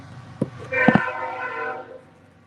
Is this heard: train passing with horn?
yes